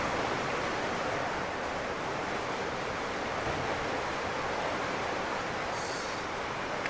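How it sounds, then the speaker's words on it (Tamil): Heavy rain pours down in a steady, dense wash of hiss that stays loud and close throughout, with no pauses, separate drops or voices standing out. "இப்போ பாருங்கள் ஃபுல்லாகவே மழை பெஞ்சு கொண்டிருக்குது"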